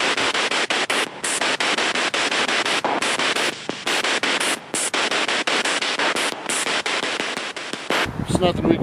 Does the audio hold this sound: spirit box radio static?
yes